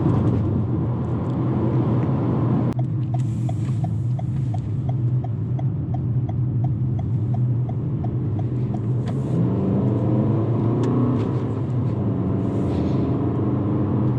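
A 2019 Toyota RAV4 drives along and accelerates from the cabin, a steady loud engine and road rumble with a faint repeating tick partway through and a brief thump near the start.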